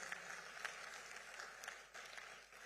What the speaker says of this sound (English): Let's clap for her, though she has left.